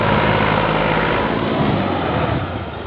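Fiat 480 tractor engine pulling a heavy load, a loud, close, continuous diesel roar and rumble that stays strong, then eases slightly toward the end.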